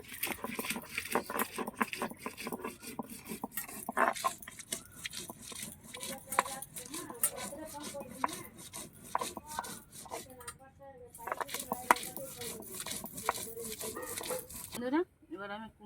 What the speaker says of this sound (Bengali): এবার কাঁচা লঙ্কাটা বেটে নিচ্ছি।